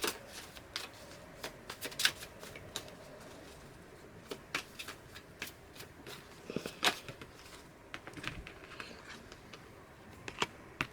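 Tarot cards are handled and shuffled, a faint, close series of light flicks, slides and taps at an irregular rhythm over a quiet room.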